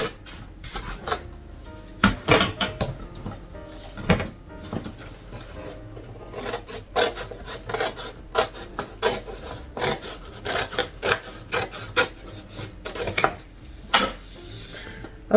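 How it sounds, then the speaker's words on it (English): Crafting material for a homemade Valentine's Day gift box is cut with a rapid series of sharp scraping and clicking strokes, fairly close and irregular in rhythm, with no talking. "So I'm going to cut it again."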